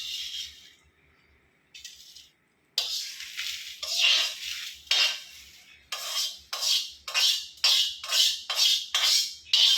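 Fried mutton is scraped and tipped from a pan onto a plate in repeated rasping strokes, the scraping growing into a fast, regular series of close metallic scrapes toward the end.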